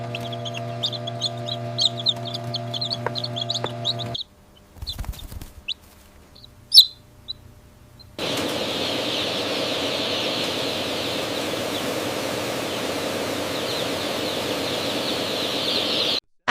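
Newly hatched chicks crowd together in a large chicken factory, a dense chorus of high peeping chirps close by. Machinery hum runs underneath, then a short quieter stretch with scattered clatter before the massed peeping returns, steady and loud.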